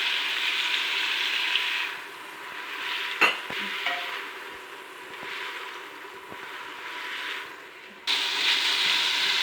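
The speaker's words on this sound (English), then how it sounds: "So now I'm going to add this ginger garlic paste into it. The onions are cooked into a golden brown color." Ginger garlic paste hits golden-brown onions in a hot pan for vegetable biriyani, giving a steady bright sizzle broken by a few stirring clicks and scrapes, with the frying surging louder near the end.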